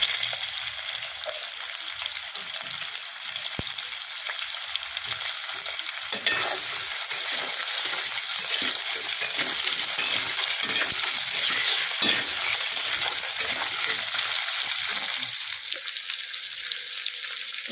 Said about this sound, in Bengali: ওদিকে আলু আর কচুটা ভাজা হতে থাক